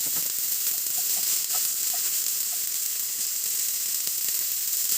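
Green beans hiss and sizzle in a hot pan, a steady, loud frying crackle with occasional small pops and spits, close and continuous with no talking.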